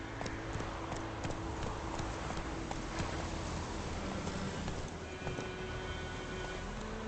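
Hooves of Roach, a horse in The Witcher 3, clip-clop in a steady rhythmic gait over a constant outdoor wind-like bed, fairly close and moderately loud with no talking.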